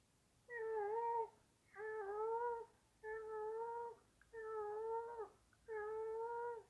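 A cat gives five drawn-out, tonal wails in a slow, regular sequence, each about a second long with short gaps, sounding moderately near against a quiet room.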